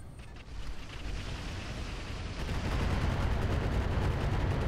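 Missiles launching in the video game Roguetech, based on BattleTech: a dense, roaring barrage of rapid rattling impacts that swells louder midway and stays constant, with no speech.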